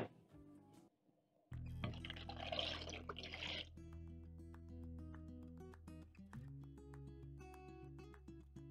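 Sliced potatoes being rinsed in a bowl of water to wash off starch: soft splashing and sloshing with light clinks of the bowl, then quieter drips and small water movements, close and fairly faint.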